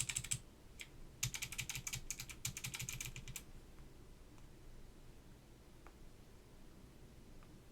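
Fast bursts of crisp clicking keystrokes on a Northgate Omnikey 101-N mechanical keyboard restored with Aps SKCM White switches, close and dense for about three seconds, then only a few scattered clacks against quiet room noise.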